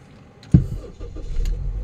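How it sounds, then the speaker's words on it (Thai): A 2004 Toyota Vios automatic engine cranks with a sharp catch and then fires up, settling into a low, steady idle close by. "สตาร์ทติดแล้วนะครับ"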